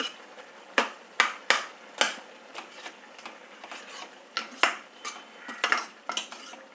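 A metal utensil mashes cooked thandu keerai greens in a pot, giving sharp, irregular clinks and knocks against the pot, close and fairly distinct with no talk.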